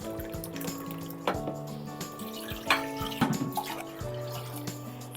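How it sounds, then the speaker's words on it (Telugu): Water poured from a glass into a pressure cooker holding lentils, turmeric and oil, a steady liquid splashing and trickling with a few drips and faint clinks close by, no talking. "ఈ గ్లాస్తో ఒక 2 గ్లాసెస్ వాటర్ పోస్తాను"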